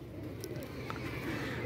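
Trained high-flying pigeons cooing softly nearby, with low throaty coos over a faint outdoor background and a few tiny chirps.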